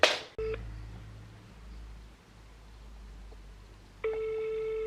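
A telephone is dialed to call a grandmother: a brief tone and a pause give way to a long steady ringback tone that comes in near the end, clear and close with no talking.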